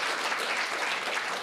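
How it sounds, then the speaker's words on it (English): Conference audience applause, a steady dense wash of many hands clapping throughout, even and sustained with no voices over it. "Can we just have another round of applause and gratitude"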